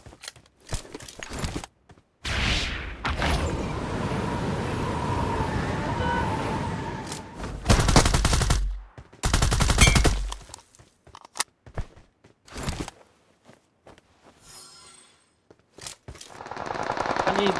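Gunfire in a shooter game during a hot-drop fight, sharp single shots and short automatic bursts spread through the clip, with a voice shouting between the shots and a stretch of engine-like hum.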